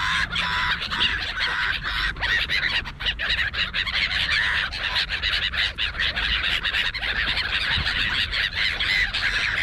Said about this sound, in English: I just have to be quiet for a minute so you can hear these birds.